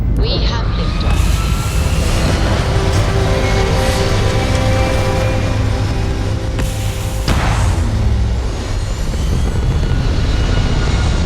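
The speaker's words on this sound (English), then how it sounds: "We have liftoff." A spaceship lifts off in the video game Starfield with a loud, continuous engine roar and rumble that swells with a deep boom partway through, while a voice speaks over it.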